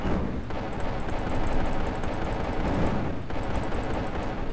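Space shooter gunfire in the pixel-art game Terrene as a ship blasts asteroids, a dense continuous crackling barrage of shots with rumbling low end filling the whole stretch.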